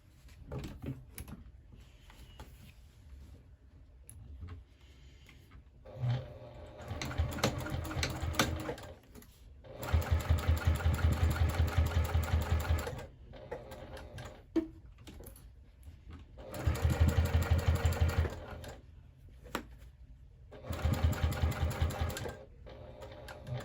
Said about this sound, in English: We're gonna top stitch all the way here.